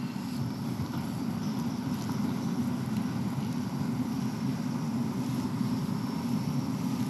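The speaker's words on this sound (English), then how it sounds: "I'm a fan of the wind burner." A wind burner camping stove roars steadily while boiling water outdoors, a constant close broadband rush with no breaks and no speech.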